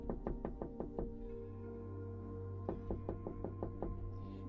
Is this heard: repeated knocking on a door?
yes